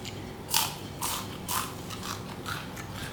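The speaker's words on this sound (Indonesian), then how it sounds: "luarnya tuh garing, bukan lagi renyah tapi garing ya, dalamnya tetap lembut." Biting into crispy fried long tofu with a crunchy golden crust and soft inside, about five or six sharp crunchy bites spaced roughly half a second apart, close and fairly loud with no talking.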